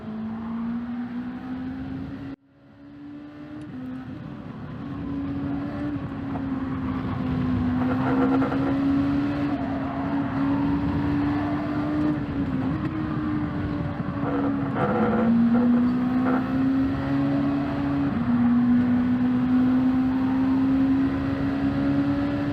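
Race cars lapping Suzuka Circuit in a racing video game, a steady engine drone with pitch rising and dropping through gear changes, loud and continuous after a brief cut near the start.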